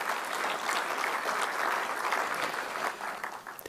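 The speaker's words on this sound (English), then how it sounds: "Let's have a big round of applause for Dr. BMHegde." Sustained applause fills a hall as an audience welcomes a doctor onto the stage, steady, dense clapping from a large crowd throughout, easing slightly near the end.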